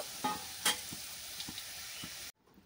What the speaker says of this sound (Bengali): এবার নেড়ে চেড়ে ভালো করে আলুটাকে ভেজে নেব।